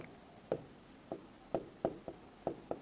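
Chalk or marker strokes on a board while words are written during a Sanskrit lesson: about eight quiet, distinct taps and short scrapes in an uneven rhythm over a faint room background.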